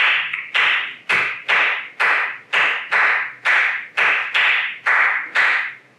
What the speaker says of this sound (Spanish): se trabaja con una clave que va con palmas